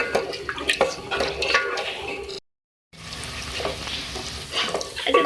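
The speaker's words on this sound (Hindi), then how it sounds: "इसको भून ले इस मसाले को" Masala sizzles in a pan with a little added water while a spoon stirs and scrapes through it, with brief crackles and spatters, a short silent gap, then more frying and stirring.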